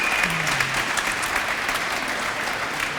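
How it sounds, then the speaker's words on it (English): A studio audience applauds a special guest on a football talk show, steady dense clapping filling the whole moment at an even, fairly loud level with no voices over it. "please give a round of applause"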